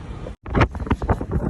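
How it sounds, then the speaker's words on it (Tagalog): Strong outdoor wind buffeting a handheld microphone in Regina, Saskatchewan, with rough, gusty rumbles after a brief dropout; loud and close. "Lakas ang hangin."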